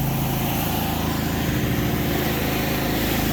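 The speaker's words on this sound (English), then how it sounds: "Mountain View pressure washer doing a big job." A Mountain View pressure washer runs steadily while cleaning a large concrete driveway and sidewalk in Vancouver, Washington: a constant loud engine drone with a broad hissing spray layered over it, unbroken throughout.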